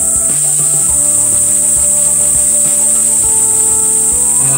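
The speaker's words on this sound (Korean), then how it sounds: "매미소리가 아직까지 여름처럼" A steady, shrill high-pitched drone of cicadas on Jangsan mountain in Haeundae, Busan, in late September, runs unbroken throughout, loud and constant, with faint low tones beneath.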